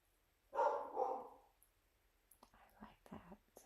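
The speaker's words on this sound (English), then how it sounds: "I don't like the dog barking" A dog barks two quick times, loud and close, then falls silent. Soft, quiet speech follows.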